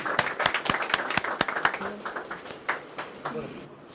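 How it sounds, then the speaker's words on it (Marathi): Scattered audience clapping greeting an arriving guest, a loose run of distinct close claps that grows sparser, with voices murmuring underneath. "जोरदार टाळ्या वाजवू आपण"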